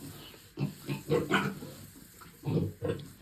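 A pregnant, big-bellied sow grunts close by in a run of about five low, throaty grunts at an uneven pace, with quieter breathing sounds between them.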